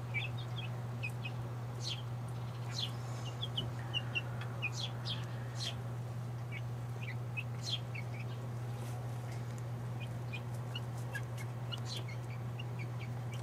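Barred Rock chickens in a coop give soft clucks among many faint chirps from chicks, steady and distant beneath a constant low hum.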